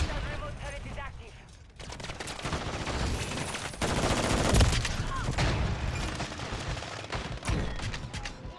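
A remote turret in a video game fires sustained rapid gunfire, dense and loud for the whole stretch, with voices and other battle noise mixed underneath.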